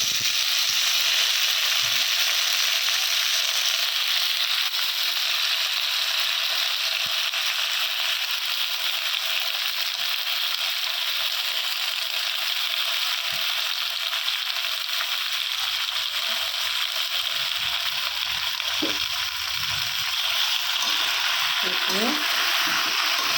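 Greens frying in a kadai, a loud, unbroken hiss of hot oil held at the same level throughout, with occasional faint stirring clicks and thumps beneath it.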